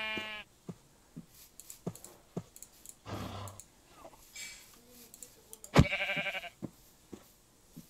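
Sheep bleat in the Minecraft Dinosaurs mod world, short harmonic calls at the start and a louder one near the end, mixed with scattered clicks and faint game sounds.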